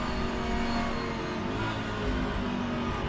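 A race car engine roars steadily at high revs on track in a Le Mans endurance sim, loud and continuous with a dense, unbroken drone throughout.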